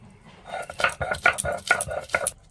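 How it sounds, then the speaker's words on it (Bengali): Garlic being ground into a paste for chana dal pakoras, heard as close, rhythmic scraping and grinding strokes repeating several times a second, steady and moderately loud. "এবার রসুনগুলো বেটে নেবো"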